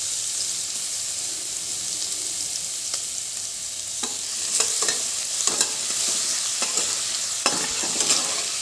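Green chilies and cumin fry in hot peanut oil with a steady bright sizzle, broken by a few clinking, scraping stirs in the pan; no one talks.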